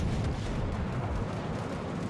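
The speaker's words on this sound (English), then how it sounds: "He missed me with his bombs." Heavy bomb explosions rumble in a World of Warships: Legends naval battle, a loud, dense, low booming roar that sustains without a break across the short stretch.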